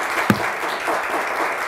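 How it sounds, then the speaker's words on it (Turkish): A brief burst of consolation applause from the studio audience on the Turkish word quiz show Kelime Oyunu, loud clapping opened by a single sharp clap. "Bize bir kuvvetli teselli alkışı."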